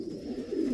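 Pigeons cooing nearby, a low soft warbling coo that swells toward the end, with no talk over it.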